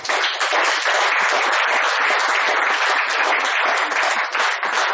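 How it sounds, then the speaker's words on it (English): Audience applause at a Toastmasters storytelling speech, loud, dense and sustained clapping from a full room, continuing steadily without a break. "Revive the applause a little more."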